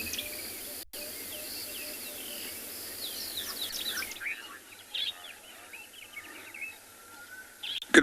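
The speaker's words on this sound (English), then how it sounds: "We're currently at Chikulu Dam, just listening to some bird sounds" Birds call and chirp at a waterhole dam in the Kalahari at Tswalu on a South African morning safari, with scattered high tweets over a steady insect hum, fairly distant and with no voices present.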